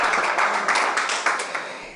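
An audience applauding Cristiano Ronaldo, with a steady wash of clapping hands that fades slightly toward the end of the short burst and has no voices over it.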